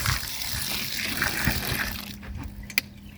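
Water drains through the small holes of seed-sprouting buckets, a continuous gushing trickle that fades toward the end, ending with a single sharp knock.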